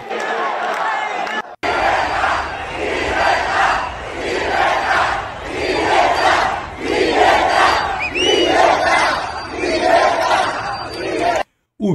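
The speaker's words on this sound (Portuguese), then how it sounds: "o pessoal gritando libertar, libertar" A large crowd outside the Real Casa de Correos chants "libertar" over and over, loud and roaring, with shouting mixed in between the repeated bursts.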